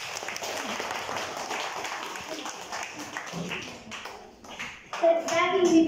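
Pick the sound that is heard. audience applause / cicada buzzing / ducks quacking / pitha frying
audience applause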